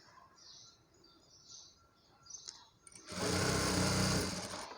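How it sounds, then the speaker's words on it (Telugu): A sewing machine stitches a baby frock for a newborn, starting after some quiet moments with faint chirps and clicks, then running loud and steady in a close, continuous whir to the end. "ఇలా రైట్ సైడ్ పెట్టి ఒక స్టిచ్ వేసేయాలండి ఫస్ట్"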